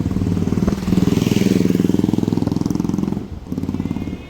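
A motorcycle engine revs hard during riding practice with a beginner, a loud, close, rapidly pulsing throb that eases briefly and then picks up again near the end.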